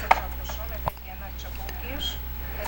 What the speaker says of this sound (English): the fast knife action on it